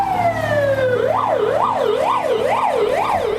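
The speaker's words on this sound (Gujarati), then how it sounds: "સૌથી પહેલા દોડી આવી 108 એમ્બ્યુલન્સ" A loud 108 emergency ambulance siren in India sweeps up, then wails in a steady rising-and-falling cycle, close by, over rumbling traffic.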